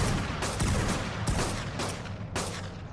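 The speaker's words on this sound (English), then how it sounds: "I'm gonna shoot it" Gunfire in Ark Survival Evolved aimed at a bear: several sharp, loud shots fire in quick succession over a steady rumbling game background.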